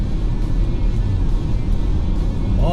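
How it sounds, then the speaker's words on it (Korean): A Chevrolet Equinox midsize SUV engine drones loudly and steadily, a continuous low rumble of acceleration with no speech over it. "일단 엔진이 미친듯이 날뛰어요"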